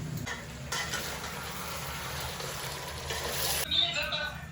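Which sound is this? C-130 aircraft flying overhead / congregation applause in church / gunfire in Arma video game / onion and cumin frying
onion and cumin frying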